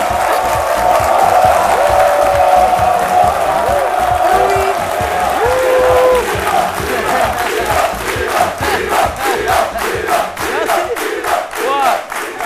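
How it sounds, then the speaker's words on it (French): A studio audience on a midday television talk show applauds and cheers loudly as guests join, with whoops and steady clapping that fades into rhythmic claps, while a host talks over the crowd. "Vous pouvez vous applaudir en vous asseyant"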